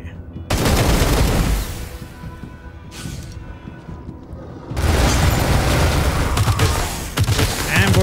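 Video game gunfire in a Wasteland 3 ambush: loud bursts of automatic fire and booming shots in two heavy volleys separated by a quieter lull, with brief talk.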